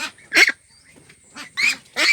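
Young Peking Star 13 ducks, about 30 days old, give three loud, close honking quacks while being weighed on a scale, each call separated by short pauses.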